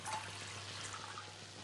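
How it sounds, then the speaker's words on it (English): Water pours steadily into a saucepan already holding white wine vinegar for pickling shallots, a continuous close splashing stream with no talk. "So 300 ml of white wine vinegar, that goes into the saucepan, and then 200 ml of water."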